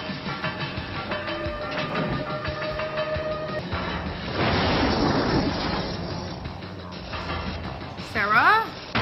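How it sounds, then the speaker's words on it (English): A big explosion in the 1984 film Terminator bursts out as a loud broadband roar amid rumbling mechanical clatter and film music, with people reacting vocally toward the end. "That's a big explosion."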